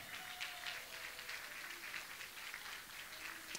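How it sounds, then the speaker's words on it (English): A church congregation claps hands in praise, a steady wash of many hands across the whole moment at a moderate, somewhat distant level, with no speech. "Why don't we start off by giving the Lord a good hand clap of praise today?"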